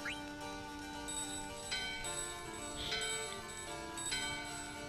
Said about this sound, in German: Ja, beide Glocken läuten im Einklang.